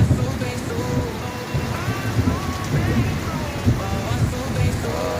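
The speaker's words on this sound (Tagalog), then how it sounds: "Grabe, ang lakas ng ulan" Steady heavy rain pours down with a constant dense hiss, while faint voices and other background sounds come and go underneath.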